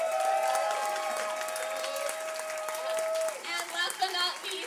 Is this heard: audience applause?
yes